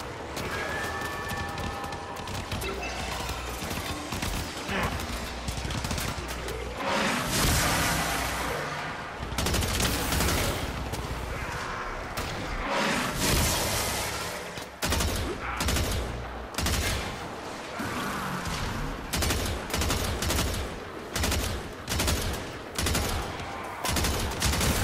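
Rapid gunfire and bursts of weapon fire from the shooter game Warframe, played as the non-prime Frost, loud and dense with repeated volleys and explosive bursts across a busy combat mix.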